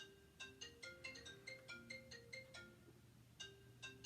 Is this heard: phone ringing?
yes